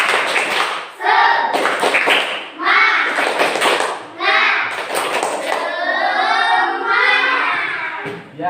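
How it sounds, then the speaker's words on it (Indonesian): A primary-school class performs a rhythmic spirit clap, loud patterned bursts of clapping alternating with children's voices chanting along in unison. "Biar semangat belajarnya lagi, kita tepuk semangat."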